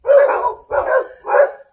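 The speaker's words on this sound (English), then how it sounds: "See them big dogs up there?" Three loud, deep barks from big dogs in a backyard, evenly spaced in quick succession and close by.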